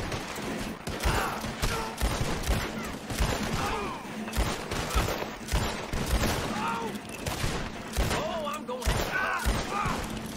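Repeated gunshots in steady irregular volleys, loud and close, with chaotic crackling throughout and voices talking over the shooting.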